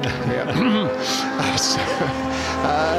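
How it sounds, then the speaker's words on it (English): A race car rolls into the pit lane below during a final pit stop, its engine rising and falling in pitch over steady track noise while people talk over it. "that is the last car who's just come into the pit lane underneath us, making its last stop"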